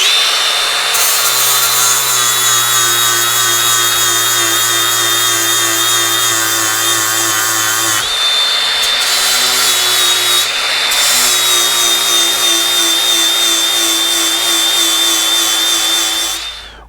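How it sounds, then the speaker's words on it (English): A 4-inch angle grinder fitted with a flap-style sanding disc sharpens a forestry mower tooth, a loud high whine with steady grinding that drops briefly twice in the middle before resuming, then stops at the end. "you can use a 4-inch angle grinder with a flap-style sanding disc to restore that point"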